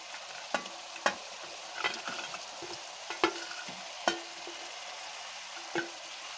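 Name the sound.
fried chicken added and stirred into the pan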